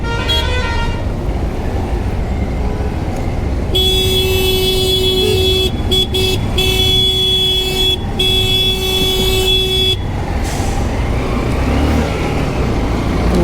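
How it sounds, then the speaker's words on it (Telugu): A loud lorry horn with altered tuning blares in long, steady honks with brief breaks, over a constant roar of road traffic. "ఆ లారీ ఆయన అయితే ట్యూనింగ్ మార్చి హారన్ కొడుతున్నాడు"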